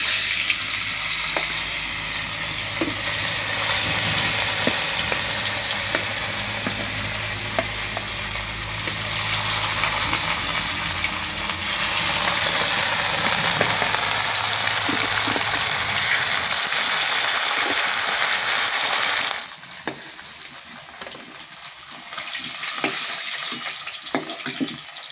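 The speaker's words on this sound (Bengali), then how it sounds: "বাকি মাছগুলো ভেজে নিচ্ছি।" Pieces of rohu fish fry in hot oil with a loud, steady sizzle that holds for a long stretch, then drops briefly and resumes more softly near the end.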